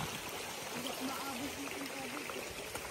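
Stream water flowing along a hiking trail on Mt. Diablo, a steady broadband rush that stays even and moderately close for the whole stretch, with faint voices underneath.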